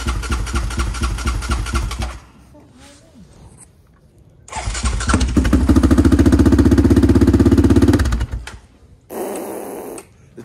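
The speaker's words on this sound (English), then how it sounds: "Listen to that bike, gang." A dirt bike engine revs hard and loud, cutting out briefly, then roars again in a sustained high-revving stretch. Up close, it ends with a short different burst of noise.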